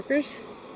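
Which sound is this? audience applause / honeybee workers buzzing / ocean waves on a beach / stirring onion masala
honeybee workers buzzing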